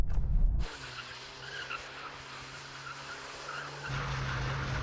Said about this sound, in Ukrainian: тепер я реально контролюю занос